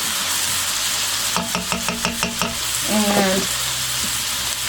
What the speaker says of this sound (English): listen at all that sizzle going on